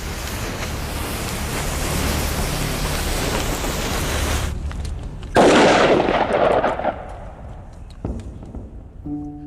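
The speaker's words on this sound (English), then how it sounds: "I think I was right in the assumption that we might well get a big bang if this pyrotechnic mixture wasn't compacted enough" Loosely packed gunpowder in a clay-lined gourd goes off with a sudden loud bang after a steady hiss, followed by a fading rumble and a few faint clicks.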